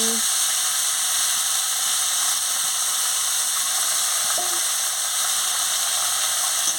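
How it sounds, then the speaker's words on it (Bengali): Chingri shak greens frying in oil with panch phoron five-spice seeds, a steady loud hiss filling the whole stretch with a few faint clinks and no talk. "এবার আমি 5 ফোড়নের সঙ্গে চিংড়ি শাকটা দিয়ে দিচ্ছি"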